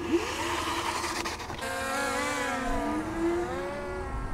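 A Segway GT2 electric scooter surges forward in boost mode off-road, its motor whine rising steadily in pitch as it accelerates, with wind and rough rolling noise underneath, sustained and close.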